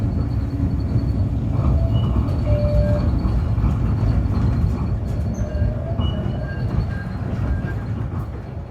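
Steady rumble of a Toronto streetcar rolling along its tracks, with faint metallic squeals and clatter throughout, continuous and close.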